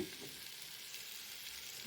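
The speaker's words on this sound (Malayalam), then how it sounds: "ഒരു നാല് സവാള ഇതേപോലെ ഞാൻ ഇട്ട് കൊടുത്തിട്ടുണ്ട് നല്ലോണം വഴറ്റിയെടുക്കുക" Sliced onions with ginger-garlic paste frying in a pan for chicken biryani, giving a steady, soft, continuous sizzle throughout with no talking.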